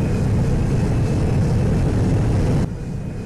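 A plane drones past in a Team Fortress 2 animation, a loud, steady engine roar that holds and then drops off sharply near the end, with no voices over it.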